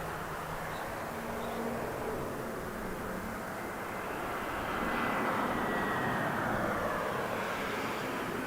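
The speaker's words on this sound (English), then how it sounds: "let's see this flight that's coming in right now" A plane flies in to land at Harry Reid International Airport in Las Vegas, its broad, steady engine roar swelling slightly louder partway through, with no voices.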